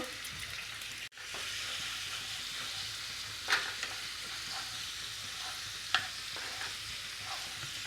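Onion paste, ginger paste and cumin powder fry in a pan, a soft steady sizzle with a couple of brief clinks and stirring sounds, quiet and without speech.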